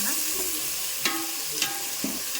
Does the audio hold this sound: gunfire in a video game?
no